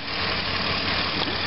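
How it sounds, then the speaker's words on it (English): A car engine idles after an emissions repair, a close, steady, even hum with a faint vibration and no talk over it. "Engine sounds a lot different automatically. You hear that?"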